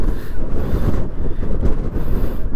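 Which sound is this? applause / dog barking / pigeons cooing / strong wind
strong wind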